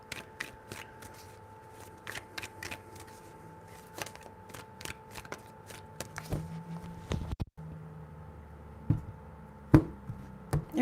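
Tarot cards being shuffled by hand at close range, a quiet series of crisp riffling snaps and taps spread irregularly through the clip with no voices.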